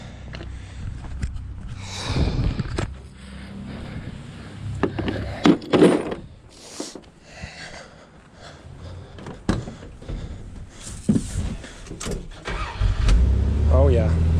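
A rescued classic truck's engine cranks and starts, then runs at a rough idle amid clattery knocks and handling noises, with people talking nearby throughout.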